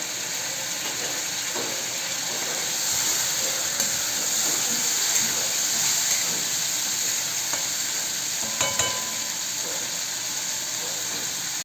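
Masala sizzles and fries in a pan after a splash of water is added, a steady loud hiss with bursts of steam and intermittent scraping from stirring throughout.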